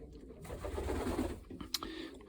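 Breeding-loft pigeons, some sitting on eggs beside young squabs, coo in a low murmur close by, with one brief sharp click near the end and a faint voice in the background.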